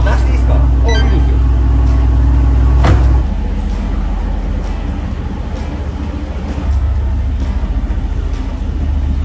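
A new top-of-the-line Mercedes-Benz engine runs with a deep, loud low rumble, rising briefly before easing to a steady idle, heard up close throughout.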